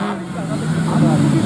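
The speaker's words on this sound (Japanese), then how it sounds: "再びエンジンをかけ走り出します。" A Honda CBR1000RR motorcycle engine growls loudly and steadily at a moto gymkhana competition, pitch climbing slightly as it revs, with a commentator's voice talking over it.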